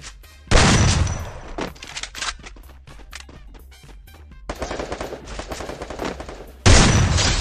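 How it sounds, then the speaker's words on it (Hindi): M1887 shotgun one-tap shots in Garena Free Fire, with two loud, sharp blasts at the start and end, and rapid gunfire crackling and other game noise filling the stretch between. "तो गाइस यहाँ पे आप वन टैप्स देख सकते हो इस शॉटगन के"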